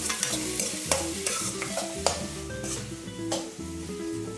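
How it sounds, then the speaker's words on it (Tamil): Chopped tomatoes sautéing for a mutton biryani, stirred in the pan: a steady sizzle with repeated scraping and clinking of the spoon against metal, close and moderately loud, no speech. "வதங்கிடுச்சு தக்காளி நல்லா வதங்கிடுச்சு"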